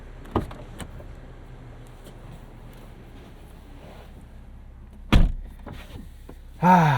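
A Toyota Supra's door clunks open and then thuds shut with a louder slam near the end, with quiet cabin rustling in between.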